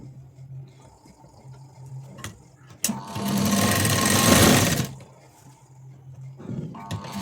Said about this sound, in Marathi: आता ब्लाऊज आपण उलटा करून घेऊ आणि इथे शिलाई देऊन घेऊ कडेला